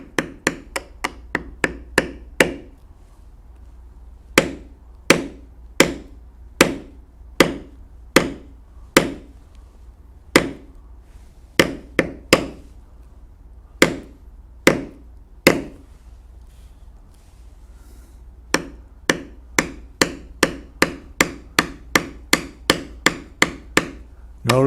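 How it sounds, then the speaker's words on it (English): A mallet taps a carving tool into leather while a bear head is carved, producing crisp, close knocks, first in a quick burst, then spaced out, then in a brisk steady run of lighter taps. "with a lighter tap of the mallet, blend it to nothing."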